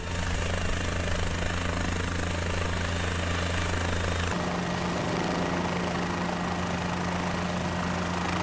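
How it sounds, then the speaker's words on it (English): A helicopter in Microsoft Flight Simulator drones steadily with a low engine hum and rotor thrum, a constant mechanical tone that shifts slightly midway, heard from inside or nearby. "we placed microphones all around the helicopter to record the different sonic signature: cockpit, rotor, exhaust"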